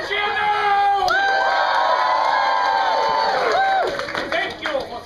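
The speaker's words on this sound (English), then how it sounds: "When I say you should cheer, now I need to go and say, hoot, holler, cut, cheer, stomp your feet, whistle" A theatre audience at a children's musical show cheers, whoops and hollers loudly and steadily, with shouts and whistle-like tones rising over the crowd noise before it thins out near the end.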